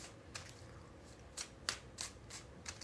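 Tarot cards being shuffled by hand, with soft, intermittent riffling snaps and flicks coming close and fairly quiet over a faint background hiss.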